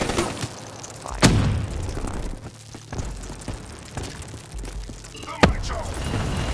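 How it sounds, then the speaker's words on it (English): Two heavy grenade blasts in a video game land a few seconds apart, each a sharp boom with a rumbling tail, over a steady bed of battle noise and scattered gunfire. "Incoming grenade!"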